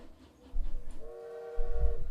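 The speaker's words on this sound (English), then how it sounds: "Follow along the train here." A train in the Railroad Corporation video game rolls with a low rumble, then a sustained horn-like tone sounds briefly in the middle before the heavy rumble swells again.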